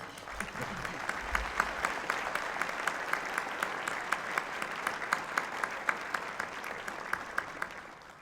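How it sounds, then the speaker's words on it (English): A large audience at a State of the City event applauds steadily, a dense even patter of many hands with a few sharper claps standing out, held at a constant level throughout. "Please, a round of applause for all of these people."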